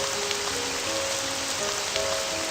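Rain falls steadily in the video game The Dawning Clocks Of Time, a soft, continuous hiss of raindrops on surfaces with faint scattered patters, quiet and alone with no voices.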